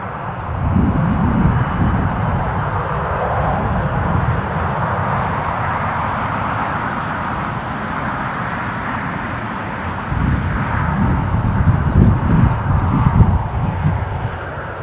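A jet airliner taxis at Newcastle airport, its engines giving a loud, continuous broadband roar that swells slightly near the end, heard from outdoors with no voices.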